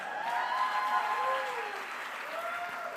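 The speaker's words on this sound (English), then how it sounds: "since you're in the clapping mood, keep clapping" An audience at an evening dinner program in New York City claps in sustained, dense applause that holds steady throughout, with some crowd sounds mixed in.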